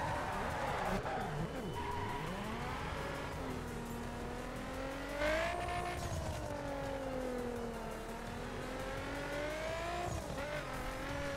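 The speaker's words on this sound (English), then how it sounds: "You would think that a circuit car making this much racket." Circuit race car in the video game The Crew, its engine roaring and revving with rising and falling pitch while tires skid and squeal, loud and continuous throughout.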